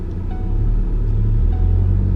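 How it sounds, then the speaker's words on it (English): A truck engine runs after starting, a loud, close, low rumble that holds steady throughout with no voices. "And the truck started."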